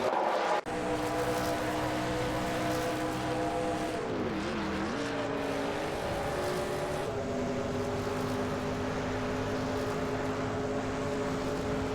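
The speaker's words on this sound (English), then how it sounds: "we're about to witness some intense racing action with AI drivers in the racing simulator" AI-driven NASCAR race cars in a simulator game at a dirt speedway, engines droning loudly and steadily with layered harmonic whine, pitch dipping briefly and then holding, no talking.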